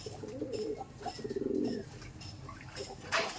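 Several male Madrasi pigeons coo in a series of low, throaty bursts, close by and fairly soft, with a faint chirp near the end.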